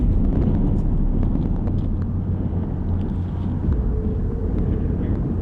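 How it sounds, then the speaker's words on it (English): A low, steady roar of an airplane passing overhead in Anchorage, mixed with gusty wind buffeting the microphone. "I can hear the plane."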